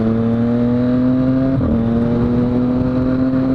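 A 2013 Triumph Street Triple R with a low-slung SC Project CRT exhaust runs close by with a steady, throaty engine drone, dipping in a brief blip midway before settling back to an even tone.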